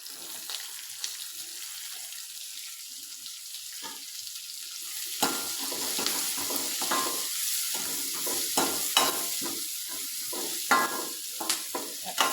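Green chili and onion stir-fry in a pan, with a steady sizzle that grows busier halfway through, punctuated by repeated scraping and stirring strokes of a spatula against the pan.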